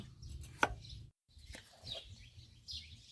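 Knife chopping ingredients for a Lao-style sweet soup, a few sharp close strikes with one loud chop early, then a pause and several softer cuts, with faint chirping in the background.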